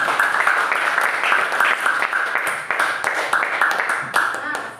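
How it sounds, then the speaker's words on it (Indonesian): A classroom group claps in a short burst of applause, dense and fairly close, with a few voices talking and calling out underneath the clapping. "Beri tepuk tangan."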